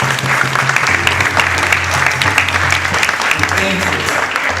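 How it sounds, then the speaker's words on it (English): Campers and group leaders at a youth camp closing session applaud themselves, loud continuous clapping with a steady low hum and some voices mixed in. "So, huge round of applause for yourselves"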